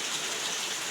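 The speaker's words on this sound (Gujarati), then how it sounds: "વરસાદ બંધ થવાનું નામ નથી લેતો." Heavy rain pours down in a continuous, dense hiss of countless drops striking surfaces, close and even for a brief moment with no voices.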